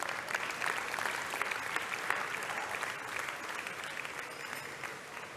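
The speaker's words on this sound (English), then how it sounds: "Can we give them a round of applause, please?" A crowd at a book launch applauds the team behind the event with a sustained, even wash of many hands clapping at a steady, moderate level.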